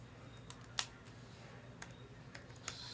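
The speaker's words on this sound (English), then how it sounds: "Stupid keyboard." A few sparse clicks from a computer keyboard during a sports card break session, quiet and widely spaced over a low steady hum, with no talking.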